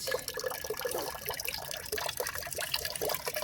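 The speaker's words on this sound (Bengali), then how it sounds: "এখানে বালতিতে জল পড়ছে জল ভরা হচ্ছে" Water pours into a bucket at home as it fills, a close, steady gushing splash that runs without a break.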